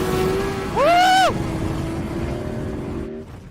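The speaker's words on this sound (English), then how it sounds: "Wide open throttle!" A motorcycle at wide open throttle on a racetrack, engine note droning steadily and rising into a loud, sweeping high-pitched whine that peaks briefly before settling back under a continuous roar.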